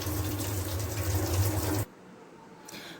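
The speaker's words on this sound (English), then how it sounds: "Then run some cold water from the tap." Cold water runs from a tap onto a plastic bottle, a steady, close rushing stream for about two seconds before it cuts off abruptly, leaving near-quiet.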